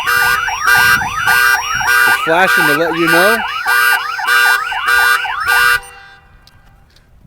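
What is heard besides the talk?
Viper car alarm siren in panic mode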